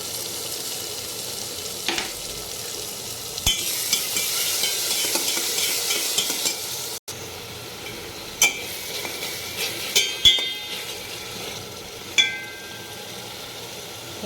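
Green masala paste with a pinch of asafoetida sizzles steadily in oil in a pan, a continuous close frying hiss broken by occasional sharp clinks and scrapes of a spoon against the pan.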